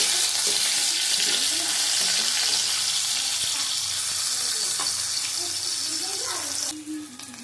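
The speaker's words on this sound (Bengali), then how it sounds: "আলুটা ভালো করে ভেজে নেবো" Potatoes sizzle steadily in hot oil in a pan while being cooked for a Bengali tengra fish curry, a continuous close frying hiss that shifts and thins near the end.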